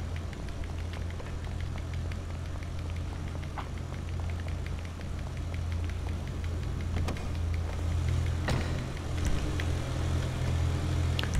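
Car engine idling and running steadily in GTA 5 Online, a continuous low rumble with occasional clicks and knocks, moderately loud and unaccompanied by talk.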